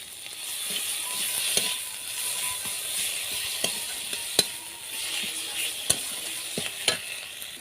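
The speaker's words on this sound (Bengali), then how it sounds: "আবারও খুব ভালোভাবে নাড়তে থাকবো।" Turmeric and chili powder sizzling in oil in a pan, a continuous hiss with close, scattered scrapes and taps of a spoon stirring through the spices.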